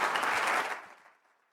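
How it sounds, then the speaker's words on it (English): Audience applause after a speaker introduction at a spring symposium, a full, dense burst of clapping that fades away within about a second. "Let's please give Sean a big round of applause."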